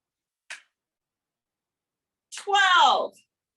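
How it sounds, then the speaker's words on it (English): A single sharp hand clap cracks out once, fairly loud, followed a moment later by a voice speaking. "See how loud of a clap you can make"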